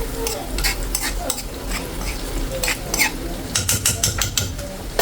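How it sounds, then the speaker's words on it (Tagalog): Butter melting and stirred in a pan for chicken pastil: a soft sizzle under repeated scrapes and clinks of a utensil against the pan, close and moderately quiet. "So, tunawin lang natin tong butter."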